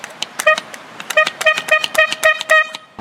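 A 120 dB bicycle air pump horn is tested up close, sounding a series of loud, sharp, tonal honks in quick irregular bursts.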